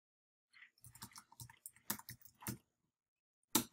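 Quick bursts of keyboard typing, irregular clacks in short clusters with brief pauses, then a final sharp keystroke after a gap. Close and fairly quiet.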